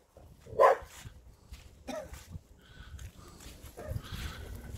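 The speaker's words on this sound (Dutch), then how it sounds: "Ja, hondjes." Dogs bark in short scattered yips and barks at a campsite in Belgium with a camper and teardrop caravan, one sharper bark up front and softer ones after over outdoor ambience.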